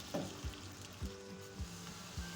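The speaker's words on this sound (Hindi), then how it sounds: "अब प्याज को मैंने बिल्कुल नरम सा कर लेना है, बहुत ब्राउन नहीं करना है।" Chopped onions sizzle and fry in a karahi pan over a medium flame for a kebab karahi, a steady soft crackle with a few louder stirring knocks, close and alone.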